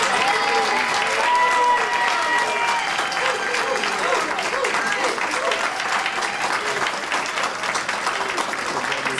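An audience applauds for Beverly Lindsay at a hand dance program. The clapping is sustained, dense and fairly close, with a few voices faintly audible beneath it.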